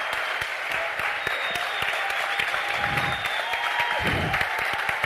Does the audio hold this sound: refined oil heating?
no